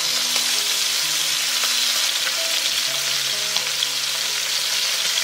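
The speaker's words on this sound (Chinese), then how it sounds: "一面煎金黄了，就给它翻另外一面" Chicken wings sizzle in a hot wok, a dense, steady crackle of oil that stays loud and unbroken throughout, with only faint clinks beneath it and no voices.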